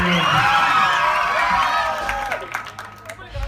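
Audience at a Mappilappattu stage show claps and cheers loudly in a dense, sustained wash, with a voice or singing over it that fades toward the end.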